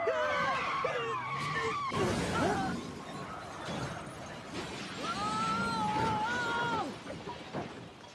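Car tires screech and skid in a tense movie chase scene, with long wavering squeals rising and falling over roaring road noise, loud and close, with faint voices underneath.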